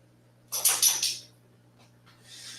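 A dog lets out a short run of three or four sharp, close barks, then a couple of fainter yips, over a steady low electrical hum.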